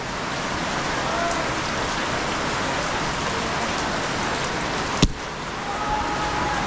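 Heavy rain pouring steadily in a constant hiss, with a single sharp knock near the end, and no talking.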